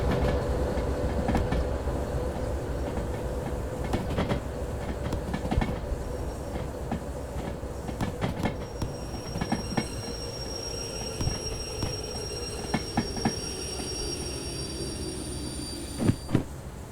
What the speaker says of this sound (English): With 4 locomotives pulling 4 empty flats, it's easy to put some more speed on it.